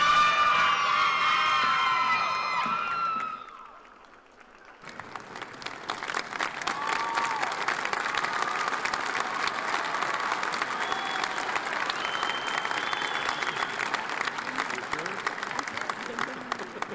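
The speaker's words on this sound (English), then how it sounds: "I think we all should applaud again the graduates of Fall 2017" At a fall commencement ceremony a voice reads names over the start, then trails off. After a short lull, sustained crowd applause for the graduates builds and holds. It is dense and steady, with scattered whoops and cheers mixed in.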